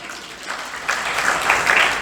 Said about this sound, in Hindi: तालियां बजा दो आदरणीय अशोक छाबड़ा जी से।